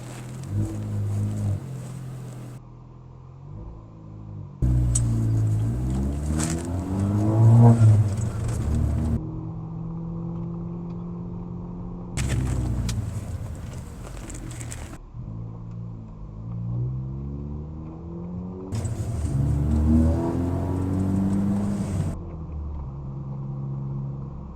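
A car driving along a road, heard from inside the cabin as steady engine rumble and road noise with rising and falling revs, sweeping pitch changes during acceleration, and a few louder wind-buffeted stretches.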